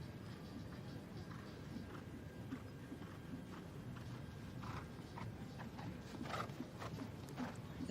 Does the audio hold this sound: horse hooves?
yes